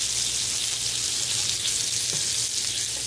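Stuffed bacon cheeseburgers sizzle loudly and steadily in a pan after being flipped, a dense close hiss with a faint clink partway through.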